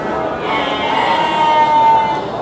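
Garut sheep bleating at a sheep market, one sustained nearby bleat rising over a busy background of crowd chatter and other animals.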